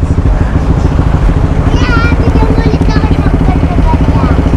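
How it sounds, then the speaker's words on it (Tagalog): A motorcycle engine drones loud and steady throughout while riding, with voices talking over the constant roar. "Nakamotor ako ngayon eh."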